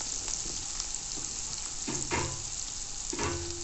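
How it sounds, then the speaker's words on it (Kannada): Onions fry in oil in a pan, a soft continuous sizzle close by, with a few brief scraping stirs and light clinks of the spoon near the end. "ಆನಂತರ ಸ್ವಲ್ಪ ಈರುಳ್ಳಿ ಆ್ಯಡ್ ಮಾಡಬೇಕು."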